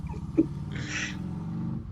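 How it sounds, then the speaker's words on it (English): A house cat cries after leaving its litter box, a short mid-pitched meow that rises and falls, heard fairly close over a low background hum. "See, when she poops, she gets out of the litter box and she cries."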